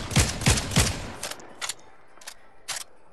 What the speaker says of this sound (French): Et maintenant je vais tirer.